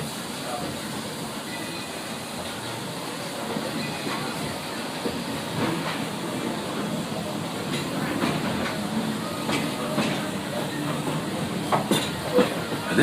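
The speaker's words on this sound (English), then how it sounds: "There are some who say that this steam train is a little old-fashioned." A steam train rolls along with a low rumble and soft rhythmic clacking of wheels on track, heard from inside at moderate volume.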